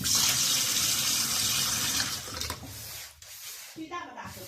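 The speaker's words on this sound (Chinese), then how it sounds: "我们现在开水试验一下。" Water runs from a repaired household faucet with tightened ceramic disc cartridge, a broadband rushing stream for about three seconds before it is shut off, leaving quieter sink sounds and a voice talking.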